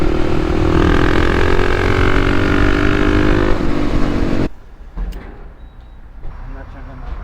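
A Kawasaki KLX300 motorcycle ridden on mountain twisties, its engine a loud, steady droning pull with rising pitch under heavy wind noise, then cutting abruptly to a quieter idle-like rumble; a rider talks over it.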